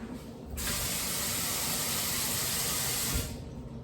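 Water pours steadily into a baking pan for a few seconds with a bright, hissing rush, starting and stopping abruptly, close by and alone.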